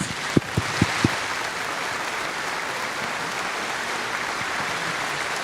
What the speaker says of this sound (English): So I want to ask you guys to give them a round of applause